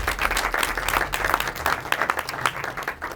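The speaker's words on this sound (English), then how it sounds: "let's give a round of applause for Dr." An audience applauds Dr. Ronald Goldman, a speaker on circumcision, at a Boston event: dense, steady clapping from many hands fills the room throughout, loud and continuous with no talk.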